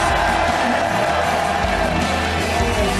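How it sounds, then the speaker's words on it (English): Cheering crowd of fans packed into the Hungaroring circuit for the Hungarian Grand Prix podium, a dense, steady roar that stays loud throughout with no breaks. "Just listen to the cheer."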